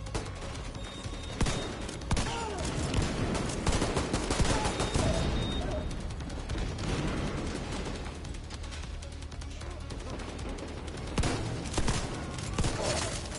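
Sustained gunfire from an ACS 12 in The Division 2 video game: dense, rapid bursts of shots and impacts run continuously, loud and cluttered, with occasional heavier booms.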